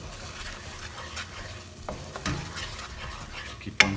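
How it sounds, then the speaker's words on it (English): Onion paste is stirred as it fries in a pot for Madras chicken curry, giving a soft, low sizzle with a few scraping strokes and a sharp clink near the end. "Keep on stirring it"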